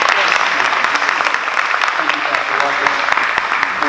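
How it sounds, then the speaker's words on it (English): Sustained applause from an audience greeting the District Attorney for Marengo County as he steps forward at a county voter information event, dense and steady clapping that fills the whole stretch. "Let's give him a round of applause as he comes"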